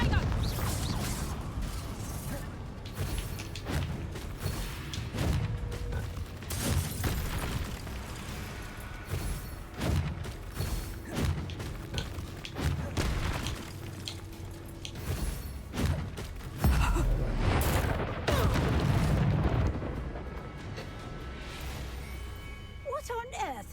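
Bombarda blasting spell in Hogwarts Legacy, a booming explosion with heavy thumps and bursts amid dense combat noise and game music, with voices talking over much of it.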